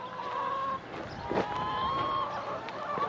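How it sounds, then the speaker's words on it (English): Chickens cluck and squawk close by, a cluster of overlapping bird calls with a sharper cry midway. "let's go check on the chickens"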